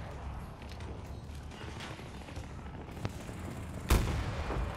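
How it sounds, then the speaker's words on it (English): A tank arriving in the Battlefield 2042 video game, with rumbling and creaking mechanical battle noise, scattered gunfire, and a loud heavy blast near the end over a steady low roar. "Tank came in."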